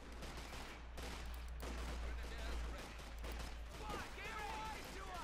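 M1 carbine gunfire from rear echelon troops in the real-time strategy game Company of Heroes 2: a continuous distant crackle of small-arms fire with a low rumble of battle and a voice talking over it.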